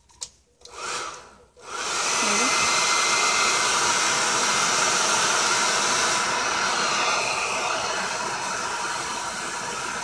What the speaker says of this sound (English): I got the blow dryer